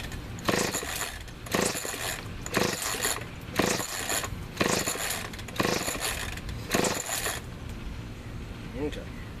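Small gas engine with the choke on, pull-started again and again: about seven loud, regular bursts of rope-pull cranking and sputter, each roughly a second long, with short pauses between them before the attempts stop.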